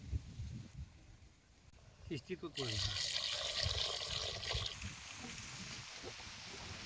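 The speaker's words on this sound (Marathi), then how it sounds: "आता हे गरम केलेलं पाणी चिकन मध्ये ओतायचं." Heated water poured into a hot pot of country chicken curry, a rushing splash and hiss lasting a couple of seconds, then a steady simmering bubble, with a voice talking faintly.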